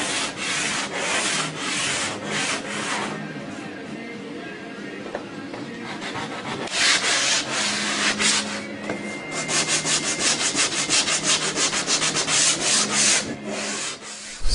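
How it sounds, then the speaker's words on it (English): Hand sanding of Bondo body filler with sandpaper on a BMW body kit, close and steady, with long rhythmic abrasive rubbing strokes that quicken into rapid back-and-forth scrubbing in the second half. "there is a lot of sanding involved in doing custom stuff and bodywork"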